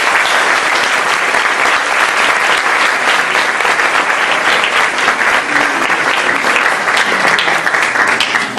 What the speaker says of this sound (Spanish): le agradecemos su presencia con un fuerte aplauso